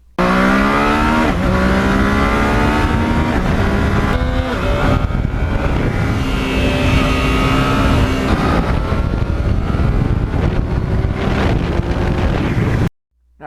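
A Yamaha MT-09 motorcycle revs hard, its exhaust howling as the pitch sweeps upward through several gear-like climbs at full RPM, loud and close with wind rush, then cutting off abruptly near the end.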